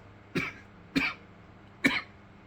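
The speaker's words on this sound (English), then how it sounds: "That was legit cough." Three short, sharp coughs come at uneven intervals, fairly close and moderately loud, with a faint hum between them.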